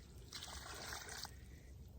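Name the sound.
water being poured into seed starting mix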